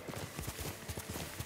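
Horse hooves clip-clop at a steady trotting rhythm in Ghost of Tsushima, a run of close, evenly spaced footfalls with no other sound.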